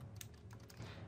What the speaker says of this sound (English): Just typing to our Garen.